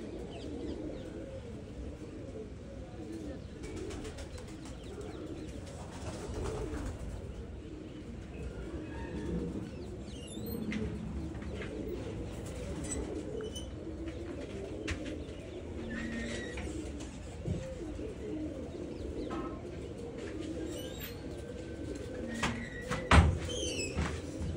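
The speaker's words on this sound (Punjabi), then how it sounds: "ਕਬੂਤਰ ਹਜੇ ਉੱਚੀ ਉੜਦੇ ਨੇ" Pigeons in a breeding loft coo in a continuous low, soft warble that carries on throughout, with an occasional faint knock near the end.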